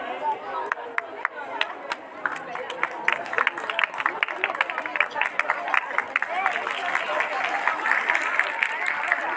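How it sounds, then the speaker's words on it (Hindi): Crowd applause fills a school ceremony at Gyandeep Senior Secondary School, Padla: dense, sustained clapping from many hands that builds slightly over several seconds, with a murmur of voices beneath. "जोरदार क्लैपिंग भाई है।"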